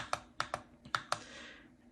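Keystrokes on a BENGOO mechanical gaming keyboard, five distinct clacking presses in an uneven rhythm, close and clear, with no voices.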